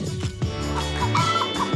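Chickens cluck and murmur close by in a busy, continuous jumble of short, overlapping calls against steady background noise.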